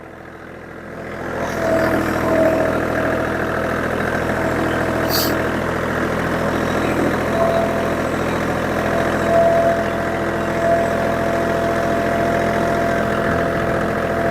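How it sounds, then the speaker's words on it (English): A small tractor engine runs steadily while cutting swales, holding a loud, even drone at close range for the whole stretch, with no talk over it. "I'm just swinging the tractor around to get the angle right"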